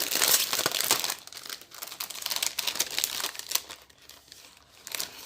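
Crinkly plastic packaging holding straws with small pennant flags is opened close up. Dense crumpling and crackling continues throughout, with some tearing, and no talking.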